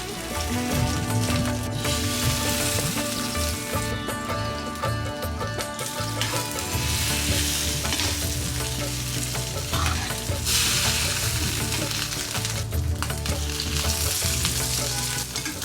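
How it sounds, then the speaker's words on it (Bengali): Eggs frying in hot mustard oil, a steady, loud sizzle and crackle that runs throughout with stirring noises and no talk. "গরম গরম সরিষার তেলে ডিমগুলোকে ভাজতে হবে সব কড়া করে"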